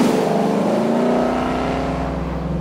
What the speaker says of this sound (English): Ford V8. 460 brake horsepower. 420 pounds foot of torque. Just the sort of soundtrack you want.